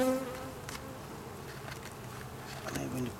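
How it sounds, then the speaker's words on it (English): Honeybees hum steadily around an opened beehive during an inspection, a close, continuous buzz with brief voices in the background. "Yeah, this is the hive."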